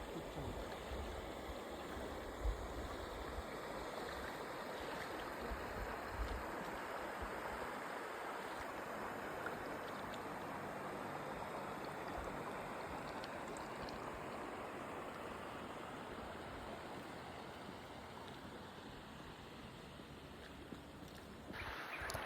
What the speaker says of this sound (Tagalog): Ang sarap paligo sa ilog dito sa bukid.